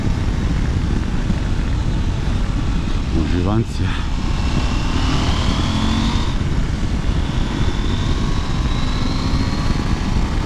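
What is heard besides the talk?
Norden motorcycle engine while riding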